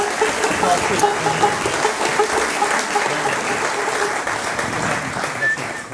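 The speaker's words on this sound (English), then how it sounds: "Give him a round of applause." Audience applause fills a town hall during a Wednesday night music show in Cavan, steady and dense throughout with a faint whistle rising above the clapping near the end.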